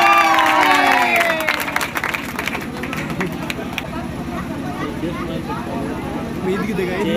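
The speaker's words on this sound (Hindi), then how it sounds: "जोरदार ताली हो जाए 130 के लिए" Loud applause and cheering break out from a crowd at a powerlifting championship after a 130 lift, with clapping and shouts strongest at first, then settling into lively crowd chatter with scattered claps.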